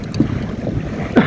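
Strong wind sweeps over a sailboat under way, a steady blustery rumble buffeting the microphone, with a couple of louder gusts and faint water wash beneath.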